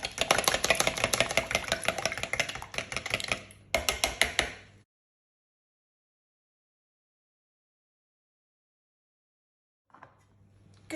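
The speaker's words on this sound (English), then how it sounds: "And then we are going to add in the milk. And again, we're going to give it a further whisk." Eggs and milk for a quiche are whisked briskly in a bowl, a dense rapid clatter of close, busy strokes lasting about five seconds before stopping, then silence and a brief faint resumption at the end.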